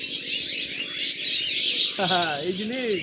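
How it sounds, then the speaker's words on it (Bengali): Birds chirp densely near a river, a busy, continuous chorus of high tweets at moderate distance, with one louder, closer call near the end and someone talking underneath. "পাখির শব্দ শোনাচ্ছি"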